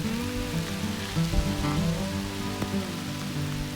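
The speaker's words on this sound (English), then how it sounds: "The weather's kind of crazy today. It's like pouring back here." Steady rain pours down on a hiking trail, a dense continuous patter on surfaces with a low background hum and no talking.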